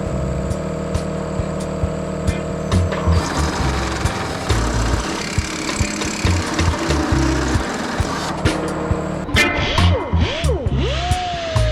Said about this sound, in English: I'm gonna start by trying to drill out the holes wide enough to accept this little nut.